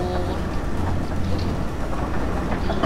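Train crashing in the Lego Marvel Super Heroes video game: a dense, loud rumbling clatter of a rail vehicle, steady and continuous throughout, with a voice faintly in the mix.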